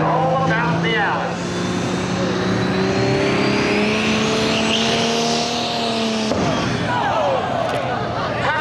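A 7800 light pro stock pickup truck pulls the Pioneer sled at a truck-pulling event in Gladys, its loud engine roaring and climbing steadily in pitch before dropping off, with voices faintly beneath it.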